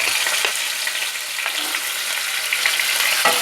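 Green chillies and chilli powder fry with a steady, close sizzle in hot oil, broken by a few soft stirring scrapes, with no talking.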